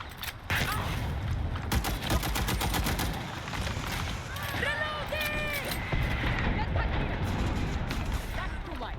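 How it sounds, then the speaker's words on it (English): Rapid bursts of automatic gunfire rattle through a match of the shooter game Dirty Bomb, with quick repeated cracks, mechanical clanks and overlapping chatter from players talking over the action. "Where are you shooting from?"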